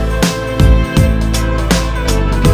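A hip hop chorus plays with the vocals removed, leaving a steady beat with punchy kick hits and sustained synth and bass tones looping through the short stretch.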